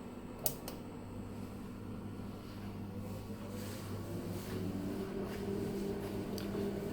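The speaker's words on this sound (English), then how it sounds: "I turn the exhaust fan on." A steady exhaust fan hum on a 100W laser engraving and cutting machine, running continuously, with a brief click near the start and a slightly louder whir later.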